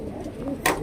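A pair of Kaldume pigeons gives a soft, low cooing close by, followed by a brief brighter rustle near the end.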